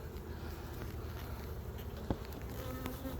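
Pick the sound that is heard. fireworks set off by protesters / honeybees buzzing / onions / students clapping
honeybees buzzing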